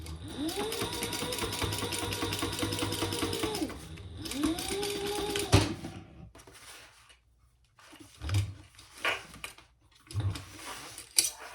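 A sewing machine top stitches both ends of a retro style sling bag in two long steady runs, its motor whirring up and stopping with a click, followed by quieter handling clatter.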